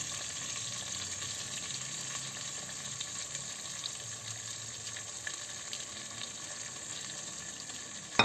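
Rice sizzles and fries in a pot with toasted vermicelli for pilaf, a steady, quiet crackling hiss that runs continuously, ending in a brief clatter.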